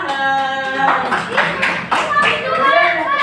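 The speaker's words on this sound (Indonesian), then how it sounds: "Tepuk tangan." Children in a classroom burst into a short round of lively applause, many small hands clapping at once for a few seconds, with young voices chattering and calling out over it.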